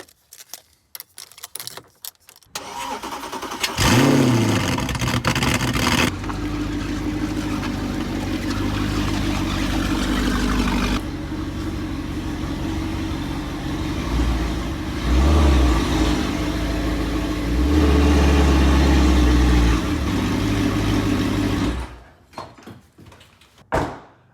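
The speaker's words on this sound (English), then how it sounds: "So I'm gonna go ahead and start this thing up. This is the first cold start." A 2008 Audi R8 cold-starts close by, the engine catching with a loud burst before settling into a steady, rough idle that rumbles on for most of the clip, with a few revs rising over it before it falls quiet.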